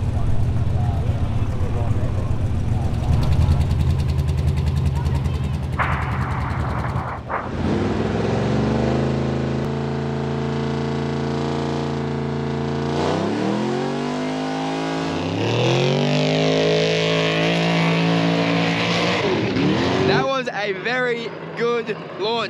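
Loud engine of an extreme two-wheel-drive off-road race vehicle revving hard at the start of the Finke Desert Race in Australia, pitch climbing through several gear changes as it accelerates away, with voices mixed in near the end.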